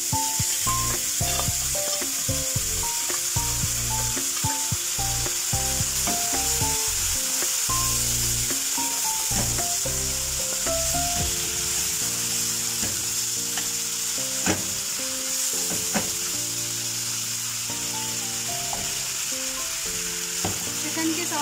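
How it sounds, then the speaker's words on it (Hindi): Chicken pieces frying with garlic and spices in a hot pan, a steady loud sizzle running throughout with frequent scraping stirs, with no talking. "हल्का सा मैं इसको फ्राई करूँगी। अब ये चिकन ऐड कर रही हूँ उसके अंदर।"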